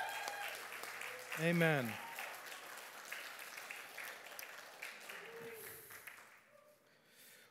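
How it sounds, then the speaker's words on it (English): A church congregation claps for a worship team after a brief spoken word from a voice; the clapping follows as a scattered patter of hands that gradually thins out and fades. "Give them a little clapping offering."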